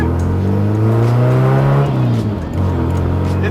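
Engine and exhaust of a Nissan 240SX drift car being driven on the street, a steady droning exhaust note that swells as it accelerates, then eases and settles, heard from inside the car, loud and close.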